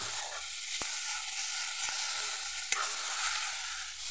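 Salt and turmeric fry in a hot pan with a soft, steady sizzle, broken by a few sharp clicks of a spoon against the metal.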